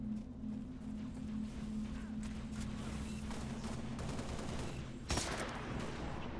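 Rapid bursts of gunfire in Halo: Reach crackle over a steady background rumble, with a louder burst near the end.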